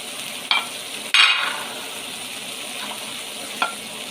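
Beef liver frying with spices in a pan, a steady sizzle under sharp scraping strokes of stirring that come in a few bursts, close and fairly loud.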